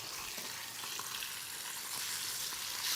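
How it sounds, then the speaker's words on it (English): Mackerel fillets sizzle skin side down in a hot pan, a steady, loud, hissing fry that carries on without pause and with no voices. "Important you hear the sizzle."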